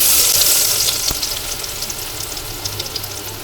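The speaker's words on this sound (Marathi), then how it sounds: "मी तेल टाकून घेतलं ऑलरेडी थोडा गॅस कमी करते खूप तेल टाकलं लसणाची फोडणी देते" A loud burst of sizzling as garlic hits plenty of hot oil, settling into a steady crackling hiss with small pops.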